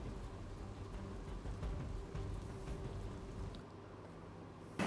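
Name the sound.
heavy rain in Surat district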